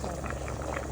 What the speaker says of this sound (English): So I'm going to boil this